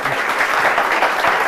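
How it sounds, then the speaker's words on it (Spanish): An audience applauds a speaker at a talk in Terrassa: a short, dense burst of steady hand clapping from a roomful of people, fairly loud throughout. "Un fuerte aplauso para él."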